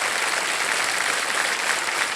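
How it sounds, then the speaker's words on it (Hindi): Dense, continuous applause from the studio audience of the TV quiz show Kaun Banega Crorepati, loud and even throughout with no pauses. "और एक बार जोरदार तालियां बज जाएं उनके लिए।"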